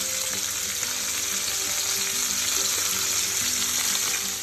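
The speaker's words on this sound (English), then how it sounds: "I'm just gonna use the same skillet, same oil, to just quickly cook my prawns." Steady, loud sizzling of prawns frying in hot oil in a skillet, continuous crackle throughout with no talking.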